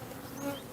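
Honey bees buzz in a steady, close drone around a beekeeper working an open hive, the hum holding level with a slight swell near the middle of the short burst.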